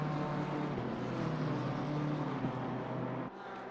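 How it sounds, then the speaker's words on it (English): A race car engine in Assetto Corsa Competizione during an endurance race at Imola drones steadily at moderate distance, holding a sustained tone before dropping abruptly near the end. "lovely car, sounds amazing"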